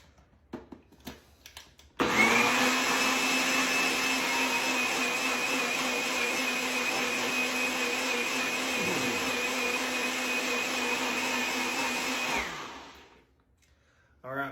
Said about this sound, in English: We're going to blend those.